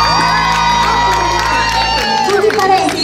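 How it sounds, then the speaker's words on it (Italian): Supporters of Urba Nord cheer, whoop and clap at a Miss Venice Beach beauty pageant stage in Sottomarina, a dense, loud crowd roar with shouts running steadily throughout. "Urba Nord pronta lì ad applaudire per te"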